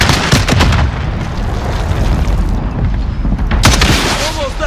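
An RPG rocket explodes amid a loud firefight in Modern Warfare, with a booming blast, continuous gunfire and rumbling battle noise throughout, and shouted voices mixed into the din.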